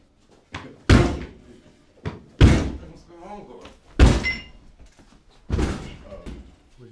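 A door held by an On Guard Security Door Brace is forced repeatedly, giving four heavy, loud thuds spaced about a second and a half apart, with a voice talking between the impacts.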